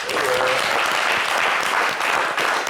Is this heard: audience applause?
yes